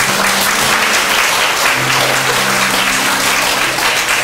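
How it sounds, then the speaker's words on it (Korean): Church congregation clapping after a Korean sermon, loud and continuous throughout, with faint sustained musical tones humming beneath the applause. "우리 하나님께 한번 영광의 박수 드리겠습니다."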